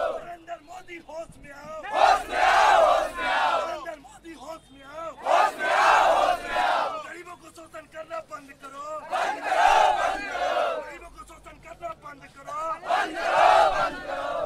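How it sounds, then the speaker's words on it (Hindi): A protest crowd in Bihar during a Bharat Bandh chants slogans in loud, rhythmic call-and-response bursts, with a lead voice followed by many voices roaring back together roughly every four seconds. "गरीबों का शोषण करना बंद करो, ये पूरा जो नारा लगाया जा रहा है"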